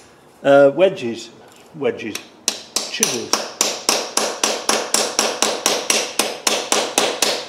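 A thin, strong steel chisel is hammered into a tight LT230 transfer box casing in a rapid, even run of sharp metallic strikes, close and loud, after brief speech at the start.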